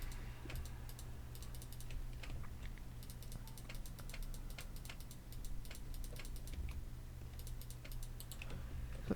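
Steady rapid clicking from a computer keyboard or mouse during a Minecraft build of the SS Normandie, close and continuous under a low constant hum, with no voices.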